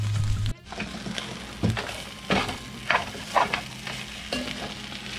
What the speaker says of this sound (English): Now, I'm going to fry this down